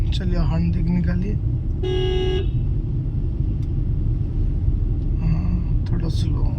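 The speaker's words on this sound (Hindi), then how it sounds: "चलिए हॉर्न देख निकालिए" Tata Punch car horn gives one short honk, about half a second long, heard over steady engine and road rumble inside the moving car while a driving instructor and the learner driver talk.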